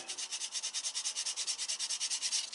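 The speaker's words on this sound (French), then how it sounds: "on vient poncer" Rapid rhythmic sanding strokes rub away a painted black line on a Volkswagen Beetle body panel, a steady back-and-forth scratching at close range with no voices.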